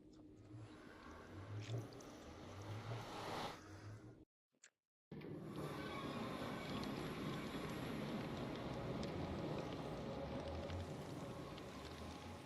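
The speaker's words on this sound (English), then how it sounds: "It is raining right now" Rain falling in Minecraft, a steady dense hiss of pattering drops filling the scene, broken by a brief silent gap before resuming just as constant and moderately loud.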